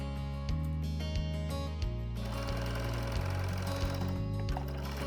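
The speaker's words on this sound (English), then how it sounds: "sew close to the folded edge to secure the binding evenly all the way along the neckline" A sewing machine topstitching binding along a stretchy tank top neckline, a rapid mechanical chattering run broken by short pauses and restarts, fairly quiet and close.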